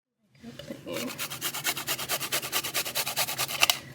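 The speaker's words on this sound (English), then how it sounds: "So I'm just gonna grate in my ginger." Fresh ginger rubbed over a grater in a home kitchen, a steady run of quick, evenly spaced rasping strokes that grows louder and faster, close and clear with no talking.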